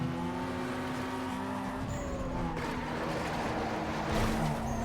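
Racing car engines roar steadily with tire squeal and skidding during a street race in Need for Speed Underground 2, a Peugeot among the cars, sustained and loud throughout.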